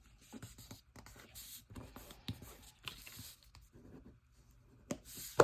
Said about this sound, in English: all we have to do is just fold this in half